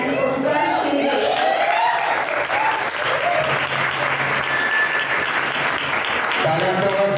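Students and guests at a college science-club Einstein birthday function clap for the prize winners, a full, steady burst of applause lasting several seconds while a voice on a microphone speaks over the start.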